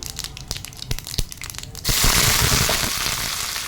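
Mustard seeds hit hot oil for a curd and greens sambar: a quiet crackly patch first, then a sudden loud, steady sizzle that fills the rest of the moment up close.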